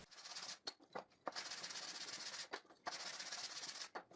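Homemade wooden bar clamps being sanded by hand, three long rasping strokes of sandpaper on wood separated by short pauses and quick scrubs, close and quiet with no talking.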